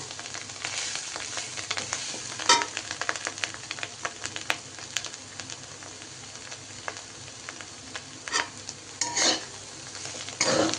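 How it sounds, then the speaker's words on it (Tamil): Cauliflower fries in a pan for a Tamil-style cauliflower fry, with a constant close sizzle broken by irregular scraping and clinking as a spoon stirs the pieces. "ஸ்லோ பண்ணிவிட்டு லைட்டாக நம்ம அப்படியே கரட்டி விட்டுக்கிட்டே இருக்கணும்"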